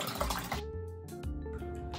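A quart of half and half is poured into a bowl for homemade vanilla ice cream, giving a soft, continuous liquid gurgle and splash that settles into a faint trickle.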